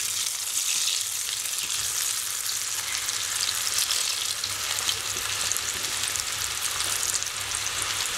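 Pepper karasev dough pressed by hand through a grater into hot oil, a loud, dense, continuous sizzle and bubbling of frying close up, steady without pauses and with no talking.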